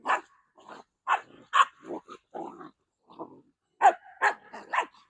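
Puppies yipping and barking in short, high bursts with brief pauses between them, close by and fairly loud.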